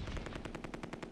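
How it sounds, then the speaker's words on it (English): Rapid machine gun fire in the Close Combat II war game, a steady burst of about a dozen evenly spaced shots, fairly faint and alone with no talking. "Get some suppressive fire out there."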